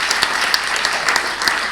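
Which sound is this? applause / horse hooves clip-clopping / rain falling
applause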